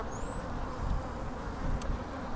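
Honeybees at the hive make a dense, steady buzzing hum close by, continuous and moderately loud throughout.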